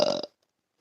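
A single loud, close human burp lasts about a quarter second, then cuts to silence.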